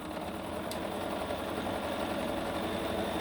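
A sewing machine stitches a quilt block for a rail fence sampler, running as a steady, even mechanical hum close by with no talk.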